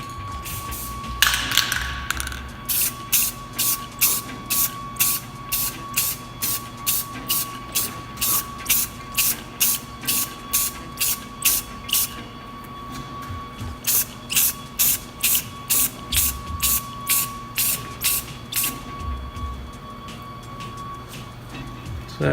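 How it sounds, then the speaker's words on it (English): Clear coat sprayed onto a carbon fiber part in quick repeated bursts, each a short sharp hiss about every half second, close and loud over a steady low hum, with a brief pause midway before the bursts resume. "We're just going to lay a light coat over it first"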